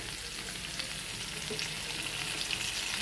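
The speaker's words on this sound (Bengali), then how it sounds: "কড়াইতে তেল দিয়ে দিয়েছি দেবো এবার পটল পটলগুলো প্রথমে ভেজে নেব" Pointed gourd (potol) frying in oil in a wok, a continuous close sizzle and bubbling hiss at an even level, with no pauses and no voices.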